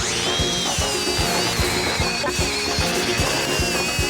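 A DeWalt angle grinder cutting during a speed comparison test, a loud continuous high-pitched whine with a steady rapid rattling pulse underneath, close up and without talking.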